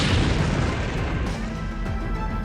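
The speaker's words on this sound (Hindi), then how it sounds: "ये धमाका पश्चिमी यूक्रेन के लीव शहर में हुआ" A deep boom from a drone explosion in Lviv, western Ukraine, opens the clip, followed by a rumbling roar that fades slowly over the next couple of seconds.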